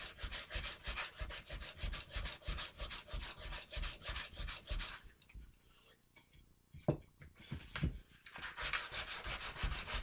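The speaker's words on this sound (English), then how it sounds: "All we're doing is sanding those flutes." Rapid back-and-forth rasping of sandpaper by hand in flutes carved into a wooden gun stock, a brief pause with a couple of knocks, then the steady scrubbing strokes resume.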